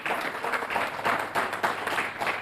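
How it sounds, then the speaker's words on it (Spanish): A church congregation applauds during a service, with loud, rhythmic clapping that rises and falls in waves, nearby and filling the room. "Dale un fuerte aplauso al que vive."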